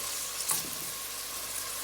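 Tomato paste is stirred into eggplant and potato frying in a pan, giving a steady broadband sizzle with a brief scrape of the utensil, close and continuous with no voices.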